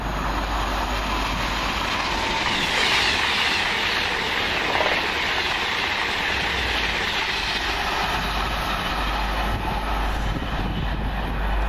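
A passenger train on the London Euston to Edinburgh Waverley line rushes past Kings Langley as a steady, loud roar with a faint clickety-clack of wheels on rail, filling the whole stretch without speech.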